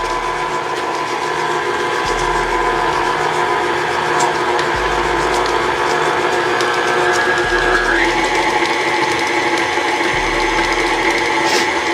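An electric mixer creams sugar and butter for holiday sugar cookies, a steady close mechanical whir with a rattling, ratchet-like texture that runs loud and unbroken throughout, its pitch shifting slightly partway through, with no talking.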